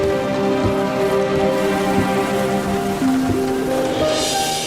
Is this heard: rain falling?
yes